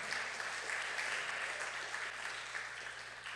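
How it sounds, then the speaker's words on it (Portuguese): Church congregation clapping in praise to the Lord, a steady, even wash of many hands, fairly faint and distant, with no voices on top. "Aplauda o Senhor"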